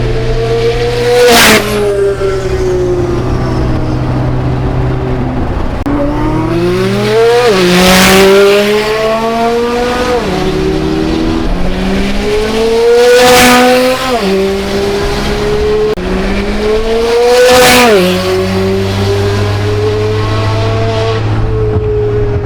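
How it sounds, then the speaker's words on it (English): A Chevrolet Corvette C8 Z06 twin-turbo engine revs hard and climbs through several gears, each upshift marked by a sharp drop, loud and close with a whooshing turbo character. "I hope those turbo sounds are coming through on camera"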